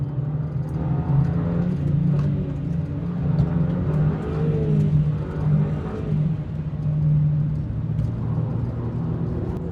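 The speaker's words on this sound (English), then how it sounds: "Now listen to the engine as I accelerate onto the straight." A swapped engine in an Audi TT pulling onto the straight at Brands Hatch, heard from inside the car as a steady droning rumble with a low hum and rising, slipping revs that never clearly build, with no talking.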